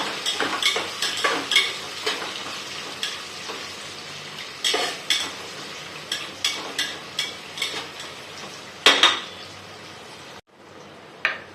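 Two medium onions sautéing in a pan for Khandeshi khichdi, with a bright sizzle and frequent, loud utensil strikes scraping the pan in an uneven rhythm, then a sudden drop to near quiet.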